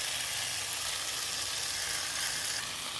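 Steady, loud sizzling of prawns frying in a hot pan, a continuous crackling hiss with no voices.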